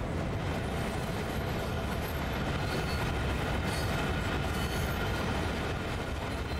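Freight train climbing the Sand Patch Grade in the video game Train Sim World 2, a steady, loud, dense roar of wheels and rolling cars on rail with continuous rumble and a faint high squeal, with no pauses.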